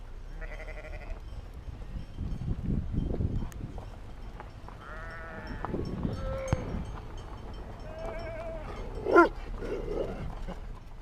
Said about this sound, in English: That is a very old sheep.